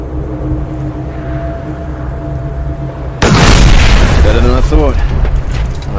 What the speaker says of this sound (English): Time to put the sniper rifle to the test.